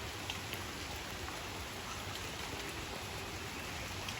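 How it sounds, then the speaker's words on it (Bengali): Steady rain falls in Brahmanbaria during days of storms, a dense, even hiss of drops on surfaces with no pauses and no voices. "দু তিন দিন যাবতীয় বৃষ্টি চলতেছে"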